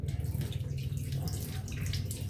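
Water runs steadily from a tap in a continuous, fairly loud, close rush that barely varies, with no talking over it.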